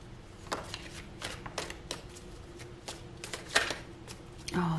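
A deck of tarot cards is cut and shuffled in a quiet room, with soft, quick riffling taps and flicks coming in irregular bursts close by.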